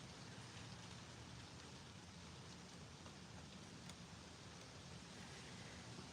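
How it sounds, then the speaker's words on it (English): Steady rain falls outdoors, a continuous soft hiss of drops spread evenly over the surface, heard faintly and alone with no voices. "Oh, I love the rain."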